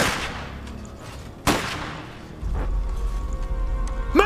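Cannon fire in the strategy video game Iron Harvest, two sharp booming blasts with rumbling tails over a battlefield ambience, close and loud.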